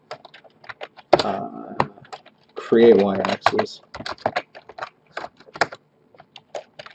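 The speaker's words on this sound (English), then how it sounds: "So I'll just start typing" Typing on a computer keyboard while setting up R code: rapid, irregular key clicks close to the microphone, running under a man's speech.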